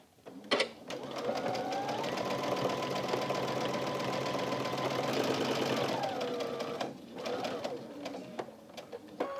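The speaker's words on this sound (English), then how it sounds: "And now we're going to sew across the edge with a scant quarter inch seam allowance" A sewing machine runs a continuous fast stitching burst along a quilt strip with a stitch length of 3, with soft handling clicks before and after the whir.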